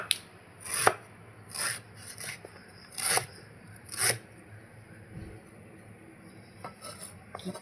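Ginger being chopped with a knife on a cutting board, a handful of crisp, close knocks spaced out with short pauses, then a few lighter taps near the end, with no talking.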